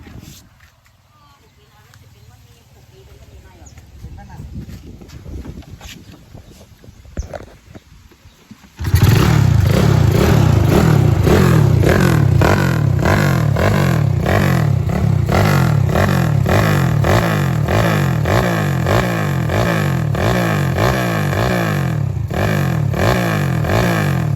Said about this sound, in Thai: เดี๋ยวเดี๋ยวผมสตาร์ทให้ฟังเสียงเครื่องกันครับ